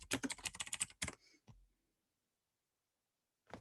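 Computer keyboard typing, a quick run of close key clicks for about a second, then a couple of isolated taps with silence between.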